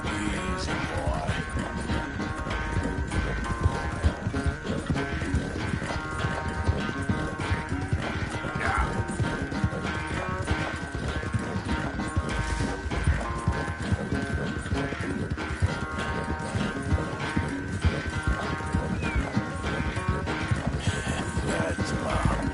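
A horse gallops hard during a race in Red Dead Redemption 2, its hooves drumming in a fast, continuous, close rhythm over a steady game music bed, with no talk heard.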